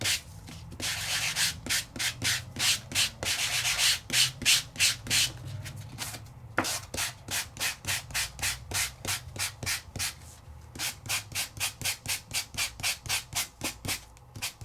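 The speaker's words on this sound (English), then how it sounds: "Just give a nice sand, and then I can come over to this side and give a nice sand." An embossed craft piece is hand-sanded in a long series of quick rhythmic back-and-forth scrubbing strokes, close and steady with a brief pause partway through, and no speech.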